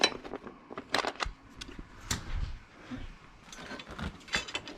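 Seat being pulled off a 2022 Honda XR650L motorcycle: scattered close clicks, knocks and scraping plastic clunks in short irregular bursts, with no talking.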